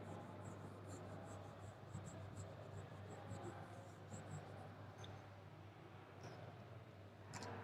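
A pen or marker scratches steadily across a surface while a cell diagram is drawn, producing continuous faint rubbing strokes with occasional small taps over a low background hum, near and quiet.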